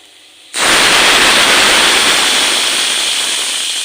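Hot ghee tempering poured into lentil dal curry, bursting into a loud, steady sizzle that starts abruptly and hisses on, slowly easing off.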